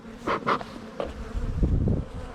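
Honeybees buzz in a hive beneath a queen excluder, a close, uneven hum with short louder swells as bees move about.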